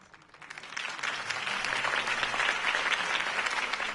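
Crowd applause in the video game Batman: The Telltale Series, a dense wash of clapping that swells quickly from quiet to a sustained, full ovation at moderate distance.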